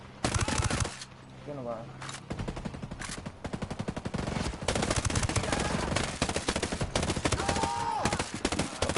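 Rapid automatic gunfire in the tactical shooter Ghost Recon Breakpoint, loud dense bursts and sustained volleys filling most of the stretch, with someone talking over the shots.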